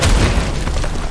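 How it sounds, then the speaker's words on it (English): Deep, loud boom of an explosion in Marvel's Midnight Suns, a single heavy burst with a rolling low tail. "Blade takes some damage from the explosion"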